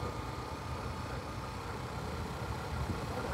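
A new Hero Xtreme 125R motorcycle engine runs steadily while riding on an open road, held at moderate revs during break-in; a continuous low drone with wind noise, no talking.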